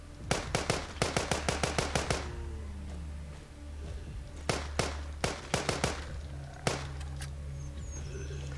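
Gunfire in a video game: quick bursts of sharp shots in rapid clusters, separated by quiet gaps and a few lone shots, fairly close and crisp over a low background hum.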